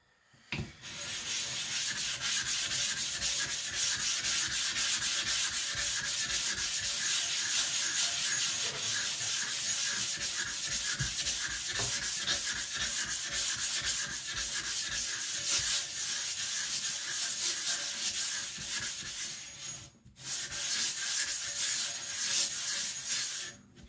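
An IKEA Chinese cleaver blade scraped flat in a steady, continuous run of close rasping strokes, loud and unbroken apart from a brief pause near the end, with no voices.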